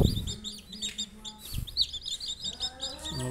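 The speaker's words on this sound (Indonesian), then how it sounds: "Ini 5 ekor sudah menetas." Newly hatched free-range village chicks incubated under a lamp chirp in a steady stream of high, repeated peeps, several birds close by calling over one another with a few soft handling bumps.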